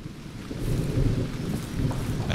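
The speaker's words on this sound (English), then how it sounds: "It's because of the rain." Rain and thunder in the Zero Sievert video game: a steady, dense wash of rainfall with low rolling rumble underneath, fairly loud and continuous, with no voices.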